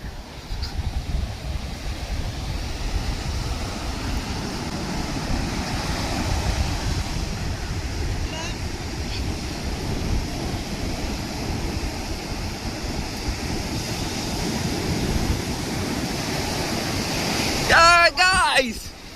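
Sea waves wash steadily onto Karaikal beach, a broad continuous surf roar with some wind, close and fairly loud throughout, ending with a brief burst of clatter.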